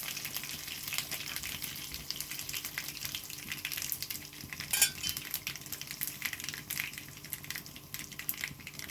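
Dried chilies and curry leaves frying in hot oil on a stove for a Gujarati bottle gourd dhokli curry, a steady close sizzle with stirring scrapes and one brief splashy burst midway, no voices.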